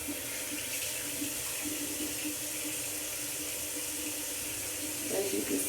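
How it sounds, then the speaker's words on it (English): Tap water runs steadily to wet natural hair while washing with a DIY shampoo, a soft, constant splashing rush that is fairly quiet and continuous and carries no speech. "So what I'm going to do is wet my hair just a little bit."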